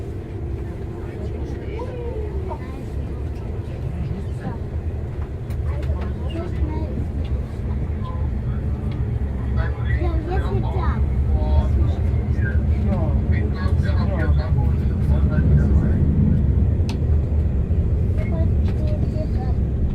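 A DHL cargo airplane takes off at Leipzig/Halle Airport, its deep, broad jet roar steady and distant at first, then slowly swelling louder over twenty seconds.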